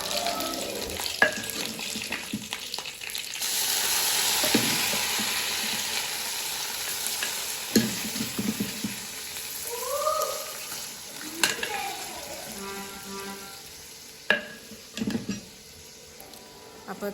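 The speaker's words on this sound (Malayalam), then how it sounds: "ഉള്ളിയൊക്കെ നന്നായിട്ട് മൂപ്പിച്ച് അത് കറിവേപ്പിലൊക്കെ ഇട്ട് കൊടുത്തിട്ടുണ്ട്. ഇപ്പോൾ അത് നമ്മൾ കറിയിലേക്ക് ഒഴിച്ച് കൊടുക്കുകയാണ്." Tempered onions and curry leaves hit a pot of beef curry with a strong burst of sizzling. The sizzle fades into softer frying, broken by scattered clinks and stirring sounds, with brief vocal-like sounds in the background.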